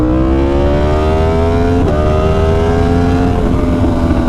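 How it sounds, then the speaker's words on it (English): A loud motorcycle engine revs steadily, its pitch rising and falling as the exhaust roars nearby, with a brief drop in tone partway through. "listen to that sweet exhaust"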